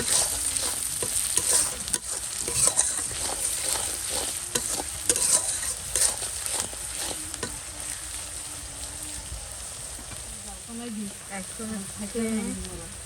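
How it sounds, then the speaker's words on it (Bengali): Chopped onion and chili fry with salt in a pan for a curry. Crackling sizzle runs under repeated scraping stirs, and a voice murmurs briefly near the end. "প্রথমে পেঁয়াজ মরিচটা ভাজা নিতেছি"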